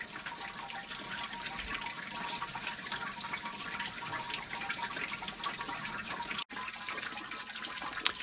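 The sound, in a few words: water draining through mash tun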